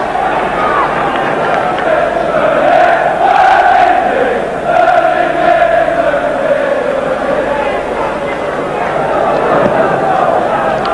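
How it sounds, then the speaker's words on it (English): A Leeds United home football crowd chants a goalkeeper's name, a broad, distant mass of singing voices that rises and falls steadily across a stadium. "Nice there to hear the crowd singing Mervyn Day's name"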